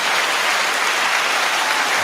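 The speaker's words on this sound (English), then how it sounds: "I think you should clap for that" A crowd of people clapping together in steady, continuous applause, fairly loud and unbroken throughout with no voices over it.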